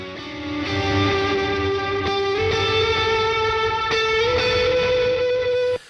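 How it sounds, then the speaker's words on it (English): An electric guitar drenched in distortion, heavy reverb and a touch of delay rings out in sustained, harmonically rich chords, with a few fresh strums lifting the level before the sound cuts off abruptly. "There's a lot of distortion, a lot of reverb, a little bit of delay in there too"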